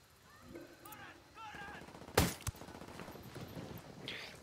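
Gunfire in the video game Ghost Recon Wildlands, with two sharp, loud shot cracks close together midway through, set against a steady rumble of game ambience and faint background sounds.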